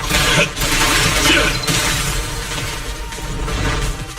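A shattering burst from combat in the video game Zenless Zone Zero, a dense, loud crash of breaking debris layered over game music and effects, sustained for a few seconds with sharp bright bursts near the start.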